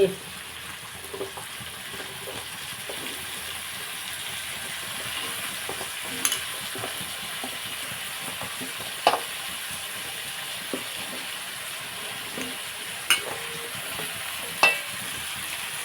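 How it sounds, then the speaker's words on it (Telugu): Pumpkin pieces fry in a pan and get stirred, a quiet steady sizzle with occasional soft scrapes and clicks of a spoon against the pan. "కుమ్మడికాయ ముక్కలు వేసేస్తున్నాను పెద్ద ముక్కలే కోసుకోవాలి ఇవి"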